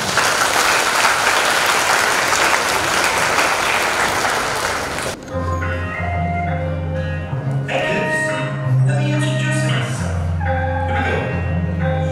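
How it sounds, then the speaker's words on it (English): Loud audience applause welcomes performers from the Wild Rhino organization at a school workshop event, a dense clapping wash lasting about five seconds before music with steady beats and tones takes over. "Please give a big applause to welcome."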